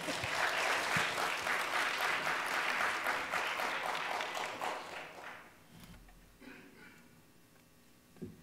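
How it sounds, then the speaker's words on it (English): Audience at a family music night gives a round of applause, loud and steady at first, then thinning out and fading to a few scattered claps. "Let's give him a round of applause."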